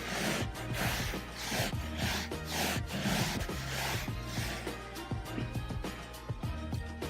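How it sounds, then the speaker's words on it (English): A damp washcloth rubs and scrubs a coffee stain out of carpet, giving a continuous close scratchy friction in repeated back-and-forth strokes. "we're gonna take a damp washcloth and we're gonna wipe it down"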